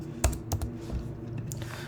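Typing on a computer keyboard, several quick close key clicks in an uneven rhythm over a faint steady background hum, with no talking.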